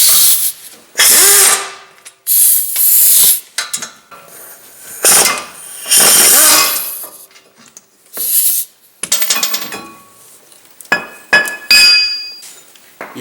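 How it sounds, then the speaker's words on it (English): Ratchet work on the caliper bracket bolts of a 2007 VW Jetta during front hub and wheel bearing replacement, with bursts of clicking and metallic clinks and clanks, loud and close, separated by short pauses. "Remove the caliper bracket bolts and remove the caliper bracket."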